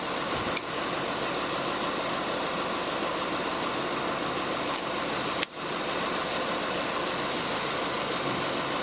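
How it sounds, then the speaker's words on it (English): Car engine idling steadily under the hood with the cooling fans, serpentine belt and alternator all turning during an AC unit repair, a constant close mechanical drone with a couple of brief clicks. "Now everything down there is turning. Fans are turning. Serpentine belt's turning. Alternator's turning."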